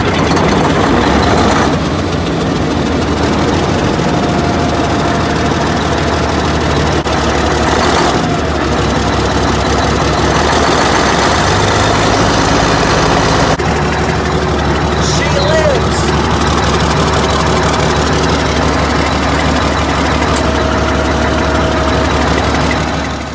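A bulldozer diesel engine with a stuck turbocharger, smoking heavily, runs loud and close at a steady idle with a deep rumble throughout, shifting in pitch partway as it settles, while people talk over it.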